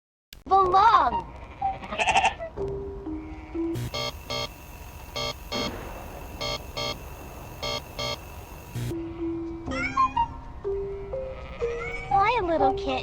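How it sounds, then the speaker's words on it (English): Cartoonish sheep bleats in a children's adventure game, a few wavering calls near the start and again near the end, mixed with game music, chimes and a speaking voice. "I think it's time to visit the sheep."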